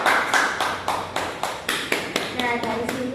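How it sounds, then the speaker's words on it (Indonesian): A classroom of students claps for a classmate, a series of rhythmic group clapping bursts at a steady pace, with voices mixed in. "Tepuk tangan untuk temannya."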